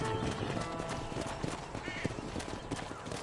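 Horse hooves clip-clop at a steady gallop in a PS5 ranching video game, loud and close, with a brief whinny and game voices talking over the rhythmic pounding.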